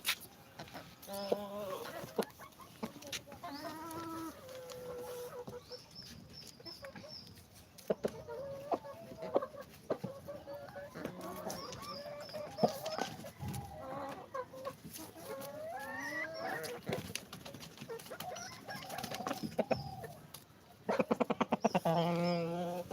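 Chickens cluck and murmur steadily throughout, with occasional louder squawks, while people talk nearby.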